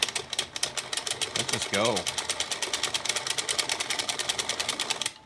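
Singer knitting machine worked by a hand crank, a rapid steady clatter of fast repeating clicks running throughout, with a brief voice-like rising tone partway through.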